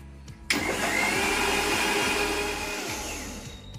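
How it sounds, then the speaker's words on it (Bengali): A mixer grinder switches on abruptly and churns chilled cream with very cold water into butter, a loud steady motor whir with sloshing that runs alone and eases slightly toward the end. "তো এই যে আমার গ্রাইন্ড করা হয়ে গেল, একদম ডান"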